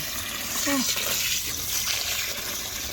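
Water is poured into a container of Safe-t-sorb clay granules, a steady close rush of liquid filling the vessel throughout, with a brief voice-like tone early on.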